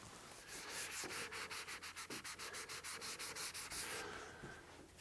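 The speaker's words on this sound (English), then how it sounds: "very carefully sanding back the last coat of primer, just a tiny bit, and I'm now using a sanding pad" A sanding pad rubs back a primer coat on a guitar body in a shed, making quick rhythmic scratchy strokes in a close, steady back-and-forth series, with a short pause in the middle.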